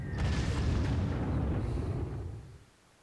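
A heavy artillery bombardment booms in the Panzer Corps strategy game, a single deep, loud blast with a rumbling tail that gradually dies away.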